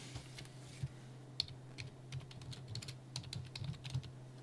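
Typing on a computer keyboard during a PubMed search, a quick irregular run of close, soft key clicks over a low steady hum.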